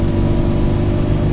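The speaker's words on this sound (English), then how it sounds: "You get a little bit of engine noise, and of course the classic 602 gearbox whine." Steady engine drone and gearbox whine from a Citroen Dyane with a 602 gearbox, heard from inside the car while driving, a continuous low hum with a faint whining tone above it and no talk.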